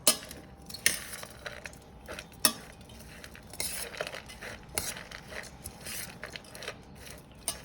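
Vegetable salad with onions and coriander being tossed in a bowl, irregular clinks and scrapes of a spoon against the bowl with soft mixing rustles between, close and quiet.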